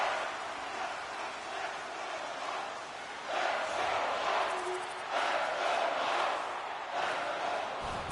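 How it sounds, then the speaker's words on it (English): Arena crowd noise at an NHL hockey game in the NHL 25 video game, a broad steady roar of cheering that swells louder after the first few seconds and holds, with no clear voices standing out. "You can feel the energy in this crowd."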